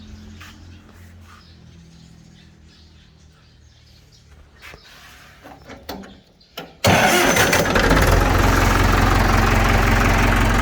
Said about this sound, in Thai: เดี๋ยวจะติดเครื่องให้ดูนะครับ